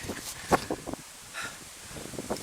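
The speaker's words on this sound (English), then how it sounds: "Oh, it's bloody windy." Wind gusts buffet the microphone with low rumbling noise and rustling, rising and falling in bursts over a few seconds.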